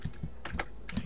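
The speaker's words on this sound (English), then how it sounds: "The keyboard is so loud." Loud computer keyboard keys clack in quick, uneven bursts of several close-up taps during Minecraft parkour play, with no talking.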